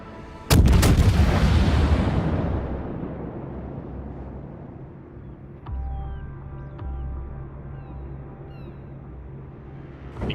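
Main battery salvos from a Zao heavy cruiser in World of Warships: a loud, booming volley near the start rolls off in a long decaying rumble, with a second smaller burst midway and another shot at the end, no talk.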